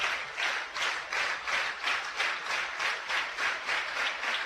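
Softball crowd at an Oklahoma versus Louisiana game applauding in steady rhythmic clapping, a fairly distant, even wash of hands rising and falling in beats across the stands.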